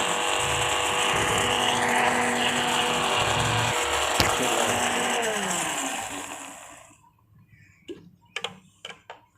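An electric grinder blends homemade mayonnaise with a steady, loud whirring drone. It cuts off partway through, leaving a few faint clicks and knocks.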